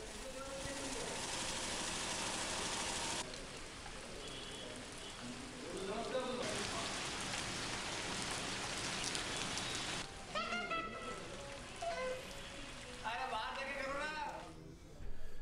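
Steady rain falls during the monsoon in Jodhpur, a broad continuous hiss of drops on surfaces that runs throughout, with a reporter's voice speaking over it.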